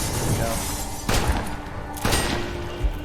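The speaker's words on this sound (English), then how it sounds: "That double-barreled shotgun" A double-barreled shotgun fires twice in West of Dead, two sharp booming blasts about a second apart over steady game background noise.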